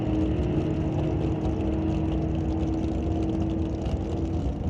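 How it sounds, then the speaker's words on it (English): Rail dragster with a 582 Chevy engine racing down a drag strip, heard as a steady, loud, continuous engine roar at a distance with no talking. "Rail dragster powered by a 582 Chevy."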